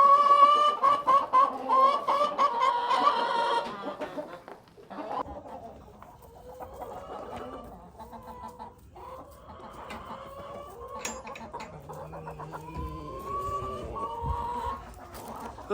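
Hens cluck and squawk on a farm, loud and close at first with rapid repeated calls, then a quieter run of scattered clucks and rustling, with no voices.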